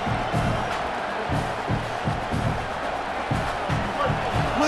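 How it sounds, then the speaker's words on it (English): A large crowd in a college football video game roars and cheers continuously with rhythmic thumping underneath, dense and sustained like a packed stadium. "Listen to the crowd energy here in the early going."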